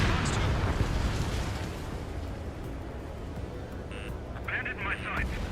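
Missile launches and rumbling explosions from the Ace Combat 7 video game, with a continuous loud roar that swells and fades while voices talk over the action.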